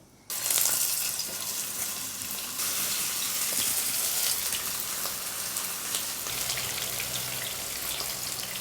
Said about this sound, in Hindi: अब हम इसको शैलो फ्राई कर रहे हैं धीमी आंच पर